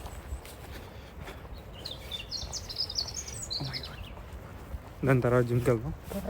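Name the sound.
bird chirping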